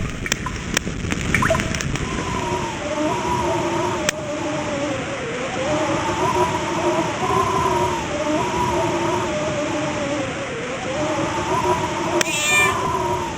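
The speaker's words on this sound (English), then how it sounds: "It's a cat!" A cat meows in the PC game Fable, a long drawn-out wavering yowl repeating over several seconds, loud and close over soft game ambience.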